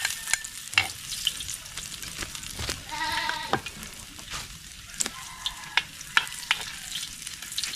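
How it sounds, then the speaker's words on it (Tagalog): Garlic and ginger sautéing in a pan as part of a seafood dish, with a soft sizzle broken by sharp scrapes and clicks of stirring, fairly quiet and close. "lagay na natin itong bawang at saka luya"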